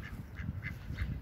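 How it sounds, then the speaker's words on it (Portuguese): Many ducks quacking in short nasal bursts, roughly evenly spaced, over a low outdoor rumble in a garden, moderately close. "Temos para aqui patos a dar com um pau."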